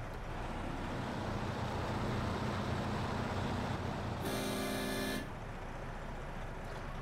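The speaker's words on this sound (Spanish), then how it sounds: "La bocina tan característica de este Pacific, este también la mantiene." A loud, deep truck horn in the video game SnowRunner, from a Pacific truck with a realistic sound mod, blasts once for about a second over a steady engine drone and road noise.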